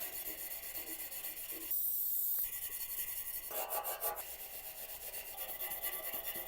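Scotch-Brite pad with misting oil scrubbed over a surface on an Audi A5 3.0 TDI, quiet rasping back-and-forth rubbing strokes with a brief hissing spray burst partway through.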